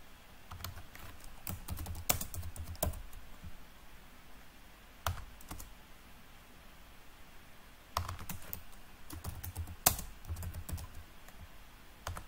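Code typed on a computer keyboard while programming an ESP8266 board to switch a relay: soft, close key clicks in irregular bursts, with short pauses between runs of typing and occasional louder strikes.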